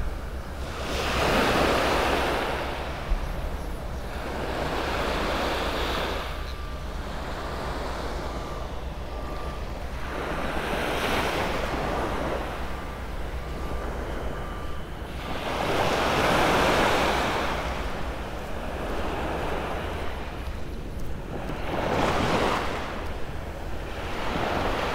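Ocean waves wash onto a beach in North Naples, Florida, in a steady roar with swells rising and falling every few seconds under wind buffeting the microphone, and no one speaking.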